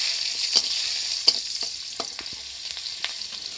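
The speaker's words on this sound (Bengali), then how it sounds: "এবার তেলের উপরে একটা তেজপাতা, অল্প করে 5 ফোড়ন দিয়ে দিচ্ছি।" A bay leaf, a little five-spice and green chillies fry in hot oil, giving a steady close sizzle broken by a few sharp pops and crackles.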